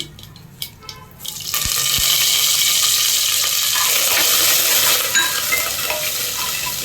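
Curry leaves and dried red chillies frying in oil over a low flame, a steady close sizzle that swells after a couple of soft clinks and continues evenly to the end.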